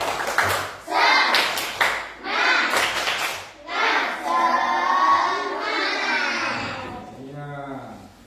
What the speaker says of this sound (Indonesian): kita beri dulu tepuk semangat.